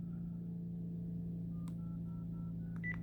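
A phone call being placed to TD Ameritrade, with a steady hum underneath, a click, then a series of short evenly spaced tones like a ringback or dialing signal, faint and without talking.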